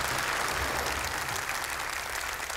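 Audience applause at a Quran recitation contest, steady dense clapping from a crowd throughout, moderately loud with no voices over it.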